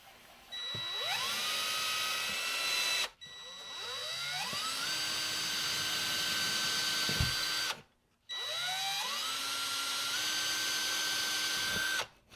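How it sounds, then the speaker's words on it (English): A power drill bores pilot holes for a J hook into a wall near a stud. Three separate bursts each spin up with a rising whine, hold steady for a few seconds and then stop, loud and close. "I'm gonna do 4 little pilot holes right here"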